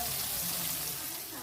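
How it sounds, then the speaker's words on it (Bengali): Meat and onions fry in a pan, giving off a steady, close-up sizzle and hiss that stays even throughout with no talking. "আর এখানে মাংস পেঁয়াজ ভাজছি"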